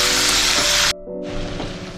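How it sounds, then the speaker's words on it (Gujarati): Tomatoes frying in a pan for rajma masala give a loud, steady sizzle that drops out for a moment, then resumes slightly softer, with no talking. "જે 4 નંગ ટામેટાં આપણે સમારીએ છીએ તે ટામેટાં ઉમેરી દઈએ અને તળવા દઈએ"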